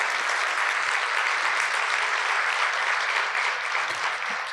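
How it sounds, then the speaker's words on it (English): Sustained round of applause from an audience at an awards ceremony honouring a business leader, dense steady clapping filling the whole span at even loudness with no talk over it. "So a round of applause to Michelle"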